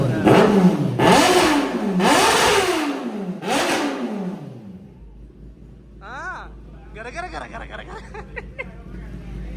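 A 2024 Kawasaki ZX10R motorcycle engine revs hard three times up close, each rev climbing and falling, before dropping to a low idle while faint background voices and chirpy sounds come in.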